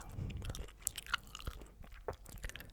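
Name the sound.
gum chewing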